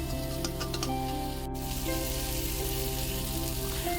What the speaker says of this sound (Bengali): এবারে ভালো করে টমেটোটাও একটু নেড়ে নিতে হবে, একটু ভালো করে এটাও ভেজে নিতে হবে